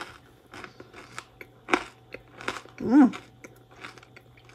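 A single crisp crunchy bite into a thin vegan blonde brownie corner, close and distinct, with faint mouth sounds and a soft murmur of appreciation around it.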